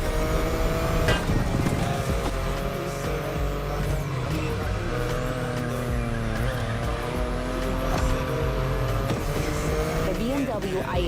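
BMW i8 hybrid sports car driving in the racing video game The Crew Motorfest, a steady engine drone with layered harmonic tones, continuous and fairly loud, with a voice talking over it throughout.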